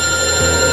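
A telephone rings briefly and loudly with a single steady electronic trill, heard on its own.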